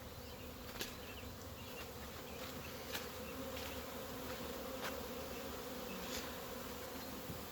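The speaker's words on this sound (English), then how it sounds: "a lot of the worker bees have come back to the old location." Steady, dense buzzing of many honey bees close by, a continuous hum with occasional louder individual bees darting past.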